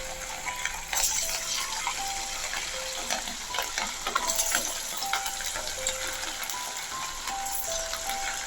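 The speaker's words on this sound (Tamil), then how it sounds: "இப்போ இதை என்ன பண்ண போகிறோம் அப்படின்னா, எண்ணெயில் போட்டு பொரிக்கணும்." Rava ring dough fries in hot oil over high flame, a steady close sizzle and crackle with occasional clinks and stirring noises, no voices.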